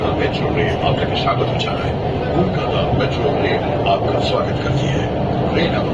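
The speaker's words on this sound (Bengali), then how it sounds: "এই দেখো ব্লু লাইনটা আবার চলে এসছে" A steady low rumble of a metro train rolling in underground beneath the Ganga river, with people talking over the constant roar.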